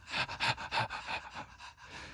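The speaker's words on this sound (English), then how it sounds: "And this is me just breathing." Rhythmic human breathing for a dramedy music cue, close and fairly loud, about eight quick panting in-and-out breaths in a steady pulse, on its own.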